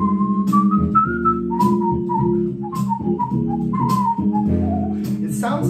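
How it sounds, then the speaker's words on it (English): A person whistles a wavering melody into a smartphone, the notes clear and close over a steady accompaniment playing underneath, with a few short breathy accents between phrases. "Let's try whistling."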